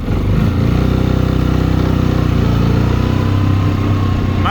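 A Linhai 300-class ATV's engine revs up loudly and steadily while pulling off with a loaded trailer, a continuous low rumbling drone close by with no voices.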